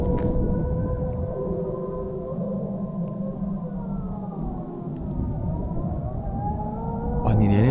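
A North Korean propaganda loudspeaker broadcast carries from across the sea as a distant, wavering, siren-like drone. It sits under a steady outdoor wash of wind and ambient noise.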